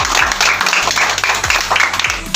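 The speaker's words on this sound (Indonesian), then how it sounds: "Berikan tepuk tangan untuk kelompok 1." Classroom applause for a student discussion group, a dense, steady patter of many hands clapping at close range that fills the whole moment, with faint low thumps beneath it.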